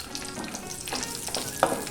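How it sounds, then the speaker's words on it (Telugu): Raisins fry in ghee in a pan for sheer kurma, giving a steady close sizzle with faint stirring and a brief sharp clink near the end. "ఇదే ప్యాన్లో కిష్మిష్ని వేసి ఒక్కసారి వేపుకోవాలి"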